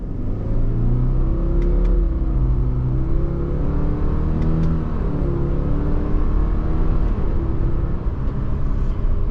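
A Subaru Forester Wilderness with a CVT accelerating through simulated manual gears, a steady buzzy engine drone rising in pitch over several stepped shifts, loud and close from inside the cabin.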